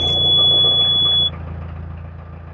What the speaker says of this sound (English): Right, let's start the engine.